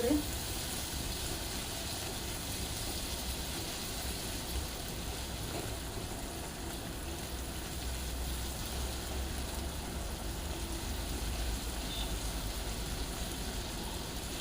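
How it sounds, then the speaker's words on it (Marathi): Tomatoes and onions frying together in a pan until soft, giving a steady, even sizzle with a broadband hiss that holds at one level throughout, close and continuous. "टोमॅटो जोपर्यंत कांद्यासोबत विरगळत नाही तोपर्यंत आपल्याला हे भाजून घ्यायचा आहे एकदम सॉफ्ट"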